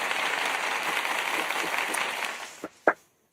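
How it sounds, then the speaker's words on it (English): Applause from a small group during a GED study session, steady dense clapping for nearly three seconds before breaking into a few scattered final claps and silence. "Oh, the applause."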